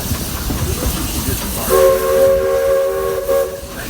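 The Walt Disney World Railroad train coming to a stop: loud, close rumbling and rolling noise, then a sustained steam whistle that sounds for about two seconds as the train slows.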